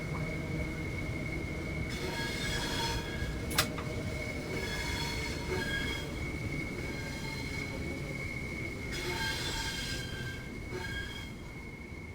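A freight train in Train Sim World 3 runs on the rails between Dartford and Gillingham, with a continuous low rolling rumble, sustained high wheel squeal and one sharp click, and no talking.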